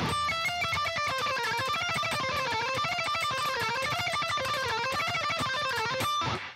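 Fast, crisp guitar picking with pick and fretting hand synchronized plays a long run of evenly spaced notes, tight and steady, stopping abruptly near the end.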